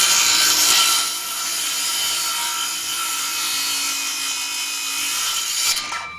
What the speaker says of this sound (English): I'm just going to make a straight cut and leave that extra stuff there because I've got a skill saw, not a jigsaw.